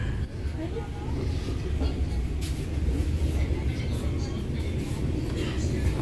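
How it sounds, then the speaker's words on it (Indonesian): A local passenger train pulls away from a small halt, a steady low rumble and rolling clatter heard from inside, with people talking over it. "Kereta api lokal diberangkatkan dari halte Luigoong,"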